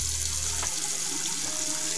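Water runs from a sink tap in the video game Dying of Thirst, a steady nearby stream lasting about two seconds.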